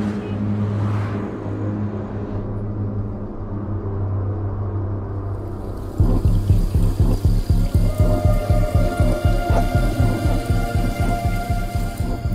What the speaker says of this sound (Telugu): ఏంటో ఈ కుంభవృష్టి.